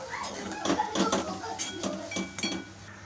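A utensil stirs drumstick leaves and spice powder in a pan, giving a series of close metallic scrapes and clinks in an uneven rhythm with several distinct knocks. A voice may be faintly present underneath.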